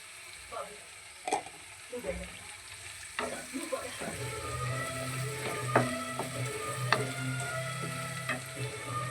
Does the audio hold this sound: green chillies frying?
yes